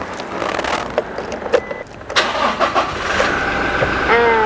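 A pickup truck engine cranks and turns over amid clicks and movement, then settles into a steady idle, with a voice speaking briefly.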